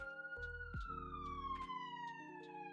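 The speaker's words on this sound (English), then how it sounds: "I live downtown if you're hearing all those sirens" Police sirens wail outside in a downtown city area, a steady rising and falling tone carrying through over a low hum.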